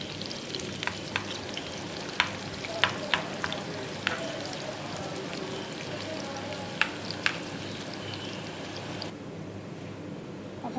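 Onions fry in a pan toward golden brown for masoor dal, a continuous close sizzle broken by several sharp ladle clinks and stirring scrapes.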